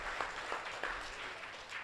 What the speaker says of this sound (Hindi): हम नीलकमल जी के लिए फिर से ताली चाहते हैं